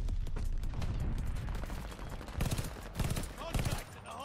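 Rapid automatic gunfire crackles around a contested hard point in Call of Duty: Vanguard, bursts coming in clustered volleys with mechanical clatter between them, fairly close and steady across the stretch.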